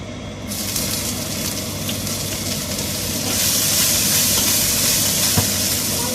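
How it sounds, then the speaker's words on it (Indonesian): Chicken pieces dropped into hot oil with a lemon sauce seasoning, frying with a loud steady hiss that swells stronger partway through, close up, with no talking. "Tak cemplungkan daging ayamnya, juga bumbu saus lemonnya"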